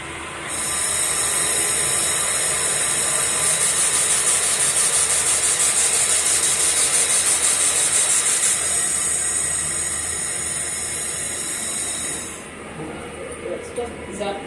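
A LightWeld handheld laser welder working on metal gives off a loud, continuous high-pitched hiss for about twelve seconds before cutting off abruptly, with a voice faintly underneath.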